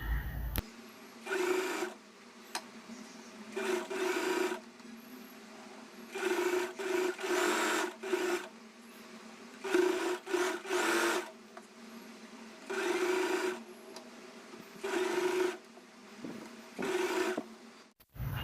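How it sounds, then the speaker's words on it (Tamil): Sewing machine stitching along the folded neckline edge of a simple blouse, running in repeated short bursts of rapid whirring stitches separated by brief pauses, close and fairly quiet. "நெக்கோட ஷேப்க்கு ஃபுல்லாக ஸ்டிச் பண்ண போகிறோம்."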